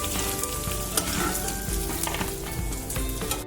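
Green chillies fry in a pan for tomato and cucumber chutney, producing a loud, continuous close sizzle with occasional stirring scrapes throughout.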